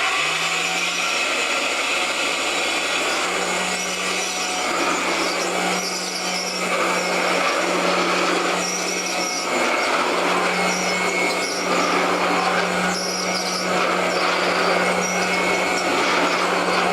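A vintage Birtman-made Kenmore upright vacuum cleaner running, a loud steady motor hum and whoosh that holds constant throughout with a slight pulsing texture.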